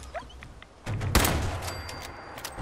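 Gunfire from the video game Fallout 4 bursts out in a heavy, rattling volley after a quieter lead-in, with a loud central blast and lingering rumble.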